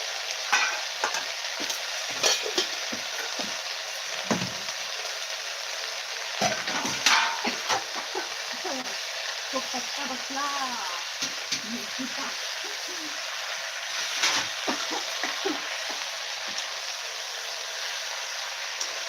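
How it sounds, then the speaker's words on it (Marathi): Amaranth leaves being sautéed with onion in a pan, a steady broadband sizzle with occasional spoon scrapes and stirring, faint birdsong in the background throughout. "आता कांद्यामध्ये पाला व्यवस्थित असा परतून घ्यायचा आहे"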